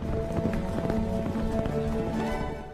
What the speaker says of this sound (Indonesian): Taiman mengajak Sartai dan Korlan lomba balap kuda ke kawasan padang rumput.